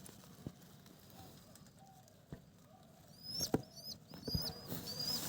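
Pigeons shift about inside a cage, with scattered wing flaps and scrabbling thumps, then a run of thin, high chirps near the end, fairly close and moderately loud.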